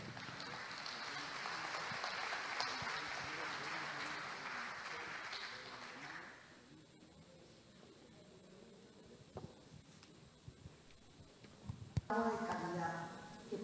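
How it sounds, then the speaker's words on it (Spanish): An audience at a forum on hydraulic works and water security welcomes the panelists with applause that lasts about six seconds and then stops, followed by quiet room noise, scattered knocks and a voice beginning to speak. "Lo recibimos con un fuerte aplauso."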